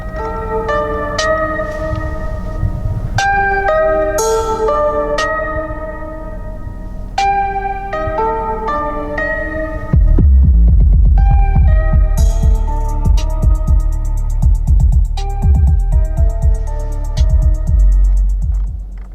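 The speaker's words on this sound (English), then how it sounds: "we'll go ahead and give that standard sound system a sample" Music plays through the standard speakers of a 2022 Nissan Rogue, melodic tones over a deep pulsing bass that grows heavier partway through, loud and steady without talking.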